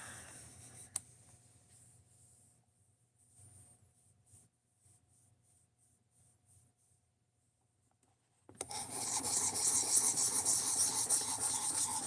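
A knife blade sanded with finer-grit sandpaper, a few faint scrapes followed by a near-silent pause, then a steady, close, continuous rasping rub that lasts to the end.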